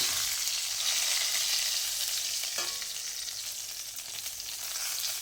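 Stuffed brinjals (bharli vangi) with kharda masala sautéing in a pan, a steady close hiss of frying that runs throughout without speech, with one brief scrape of stirring midway.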